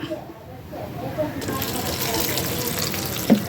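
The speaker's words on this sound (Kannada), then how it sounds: "ಅದಕ್ಕೆ ಎಷ್ಟು ಬೇಕು ಅಷ್ಟು ನೀರು ಹಾಕಬೇಕು" Water is poured into a ground masala with roasted coriander and turmeric for a Mangalore-style sole fish curry. A steady, close splashing stream gushes in, and a voice speaks briefly over it.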